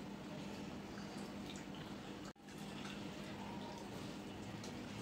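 Rain falls steadily over a village home in Bangladesh, a continuous soft hiss with faint drips that briefly cuts out midway before resuming.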